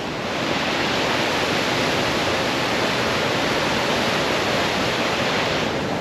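Overland Falls near Mount Robson roars as a loud, steady waterfall, a dense unbroken rush of falling water that fills the whole span with no voices.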